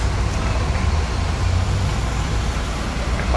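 An Epa Star passenger bus rumbles nearby, a loud, steady low engine drone with road traffic noise that holds without a break.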